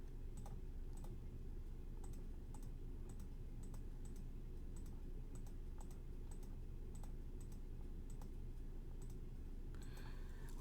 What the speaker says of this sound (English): so I will type that